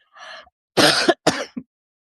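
A short throat clearing followed by two harsh coughs and a small final cough, close and fairly loud, with no talking.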